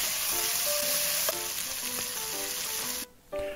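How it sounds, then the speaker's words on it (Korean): Spinach tossed quickly with already-browned meat in a frying pan over high heat gives a steady, close sizzle with light scraping and clatter, dropping briefly near the end before resuming. "볶아진 고기에 시금치를 넣으시고 20초 정도만 센 불에 빠르게 볶아주세요"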